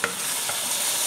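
Black pepper sauce hits a hot pan still coated with browned steak drippings, setting off a loud, steady sizzle with a sharp splash at the start and no voices.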